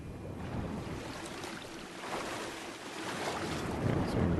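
A waterfall in the video game Darksiders II, rendered as a continuous broad rushing roar, loud and close, steady and swelling slightly toward the end, with no talking.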